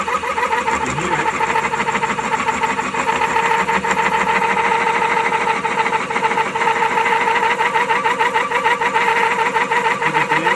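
A wood lathe spinning a maple tool handle while a light cut is taken, giving a continuous, loud, rhythmic whirring and chattering drone with no voices.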